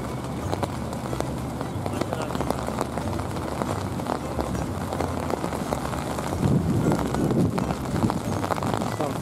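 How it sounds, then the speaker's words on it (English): Heavy rain falling on the Seine in the evening, a steady dense hiss of drops over wind buffeting, with a person talking over it throughout. "And it's raining pretty hard now. You can probably hear it."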